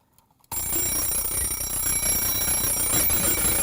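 A wind-up timer clock's alarm bursts in after half a second of quiet and rings continuously, loud and harsh, with a dense metallic bell clatter that never pauses.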